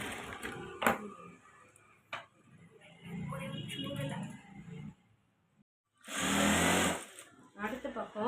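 Sewing machine stitching a blouse, with bursts of mechanical whirring and ticking that come and go between stretches of talk. One loud, close run of stitching stands alone near the end.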